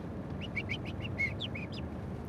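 A person whistles a sequence of short, warbling bird-like notes, imitating a blackbird's call, over a low steady background hum.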